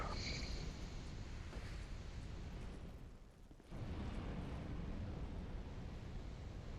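A gunpowder barrel blows up in Dark Souls II with a broad, rumbling boom that fills the clip. The blast holds steady, drops briefly and then surges back, with no voices over it.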